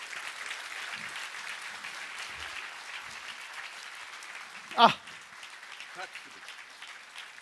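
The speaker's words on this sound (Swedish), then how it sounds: "En applåd!" A Swedish stage-event audience applauds steadily, a soft, distant wash of clapping broken by one short loud exclamation from a nearby voice.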